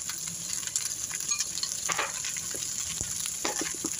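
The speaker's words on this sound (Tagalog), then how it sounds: "Gisahin na natin." Mixed spices sautéing in a hot pan, including coriander powder and black pepper, with a steady close sizzle and occasional scraping stirs of a utensil, no talking.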